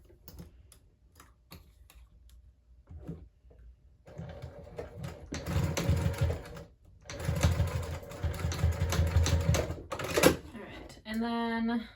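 A sewing machine stitching a crossbody bag, starting with sparse ticks and clicks, then running in bursts of rapid mechanical whirring and stitching, close and moderately loud, with a brief pause in between.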